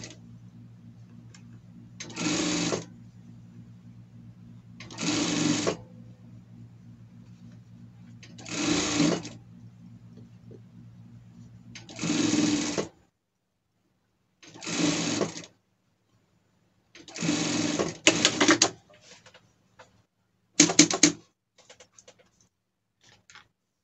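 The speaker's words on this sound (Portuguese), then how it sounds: "A gente vai passar uma costura aqui, rebatendo a nossa peça" A sewing machine topstitches a seam on fabric for a costume, running in about seven short, even bursts separated by quiet pauses.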